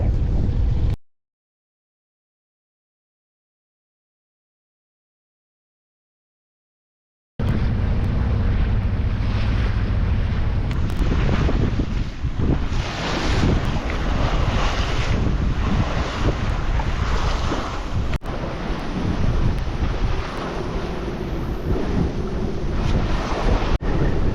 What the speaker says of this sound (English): A bit blustery out in the Sound of Mull, but been a pretty good sail across from Oban.